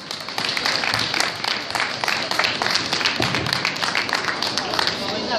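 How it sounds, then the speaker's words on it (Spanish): Applause for tenor Ignacio Gómez at a Fiestas Patrias celebration: steady, dense clapping from an audience, continuous and fairly loud throughout, with voices mixed in. "fuerte el aplauso para él"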